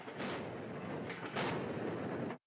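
Heavy gunfire rumbles through a naval live-fire exercise, a dense, continuous roar with a couple of sharper blasts before it cuts off abruptly.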